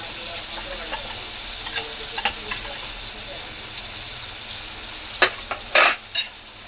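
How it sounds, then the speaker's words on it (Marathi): Ginger garlic paste frying in a pan for a Kokani-style wet cashew sabzi, giving a steady soft sizzle with several sharp clinks of a spoon against the pan near the end. "त्याच्यामध्ये आलं लसूण पेस्ट टाकले."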